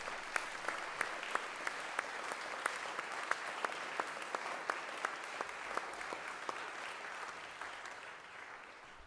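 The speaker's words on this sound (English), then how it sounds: "let's give him a round of applause to welcome him" A school assembly applauds to welcome a new grade 8 member, a steady patter of many hands clapping at moderate distance with a few sharper claps standing out, fading slightly at the end.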